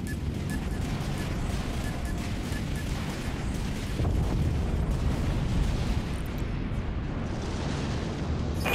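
Heavy warship weapon fire and torpedo launches in the Dreadnought space combat video game, a dense continuous rumble of blasts and booms that swells louder partway through.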